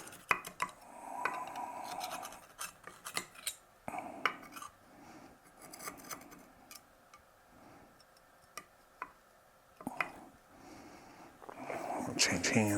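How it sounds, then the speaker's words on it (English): A knife scraping around the edge of a cast iron cornbread pan, faint repeated ticks and scrapes of metal on iron as a person talks throughout. "So I'm going to run a knife around the edge here to loosen these up because they will kind of stick"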